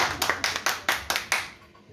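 About six sharp hand claps from a conference audience in a steady, even rhythm, fairly soft and without voices, then fading out.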